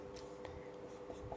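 Faint scratching strokes of writing on a board during a hydrostatics lesson, soft and brief over a steady low room hum, no speech.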